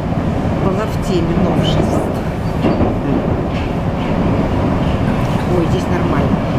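Moscow metro train ride between Novoslobodskaya and Kievskaya stations: a loud, steady rumble of a carriage in motion fills the whole stretch, with faint rhythmic wheel clatter and some voices beneath.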